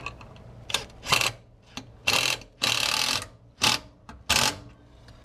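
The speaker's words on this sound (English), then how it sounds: "take our impact wrench and tighten our bottom all the way down" Impact wrench tightening a bolt during installation of a door on a Polaris 570 midsize UTV, firing in several short, sharp rattling bursts separated by brief pauses, close and clear.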